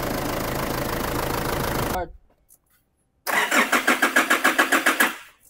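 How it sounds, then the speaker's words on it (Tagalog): A car engine runs loudly, cuts out into near silence, then restarts with a rapid, regular knocking pulse repeating about five times per second. "Saka may fuel knocks."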